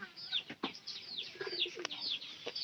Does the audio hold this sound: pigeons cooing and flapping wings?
yes